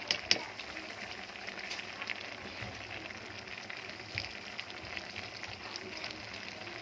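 Helencha greens cooking in a pot with eggplant and small puti fish, a faint steady sizzle and crackle with occasional soft clinks, fairly quiet and continuous.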